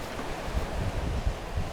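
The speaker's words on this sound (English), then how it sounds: "Some nice waves coming in." Surf rolling onto the shore below a high vantage point at St Michael's Mount, Cornwall, a steady broadband wash with soft low thumps of breaking waves and some wind rumble across the microphone.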